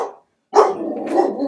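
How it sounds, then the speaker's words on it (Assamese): A dog barks nearby outdoors, a brief yap, then a short pause and a louder drawn-out bark, close and alone. "এই ভুকনিটো"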